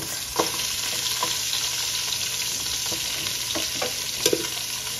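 Chicken feet frying in a pan with golden-browned garlic and onion for arroz caldo, a steady close hiss of oil broken by a few sharp stir clatters and pops, no voices.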